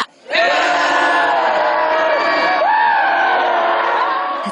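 Military cadets at the Korean Military Academy basic training in 2001 shout a loud, sustained battle cry together, a massed roar of voices that starts abruptly and holds strong, with pitch shifts as the yell continues.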